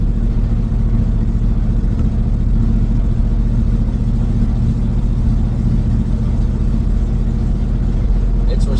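Steady, droning engine of an LS-swapped Chevrolet Monte Carlo while cruising along a road, a constant low rumble from inside the car with no notable revving.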